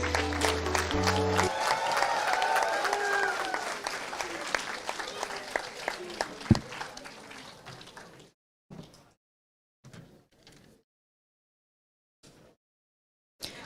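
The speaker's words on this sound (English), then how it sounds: "Can we have a big round of applause for all the graduates?" A graduation-day audience for mechanical engineering graduates breaks into sustained, dense applause that carries on for several seconds and then thins into a few scattered, fading claps separated by silence.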